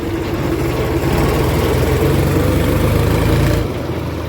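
A tractor engine runs close by with a loud, low, throbbing idle that stays steady for several seconds, then cuts to a lower level near the end. No one speaks.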